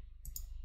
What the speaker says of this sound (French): Je clique à nouveau sur le propriétaire.